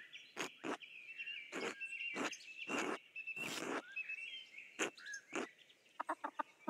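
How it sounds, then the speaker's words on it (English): Ducks in the video game Pentiment quack and squawk excitedly in short repeated bursts, a busy cluster of mid-pitched calls with a rapid run of clucks at the end, fairly close and without talk. "These ducks are great. They're very excited."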